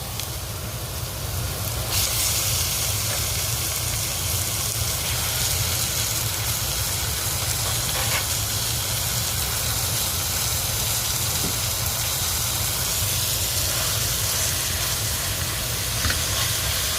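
Minced pork browning with garlic in a pan for chilli con carne, a steady loud sizzle and hiss throughout, without talk.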